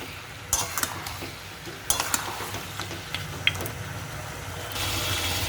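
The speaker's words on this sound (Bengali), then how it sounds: "এটা আমি ভালো করে কষিয়ে নেব।" Mutton curry being stirred and sautéed with spices and tomato in a pan, with scattered scraping clinks of a utensil against metal over a steady low sizzle.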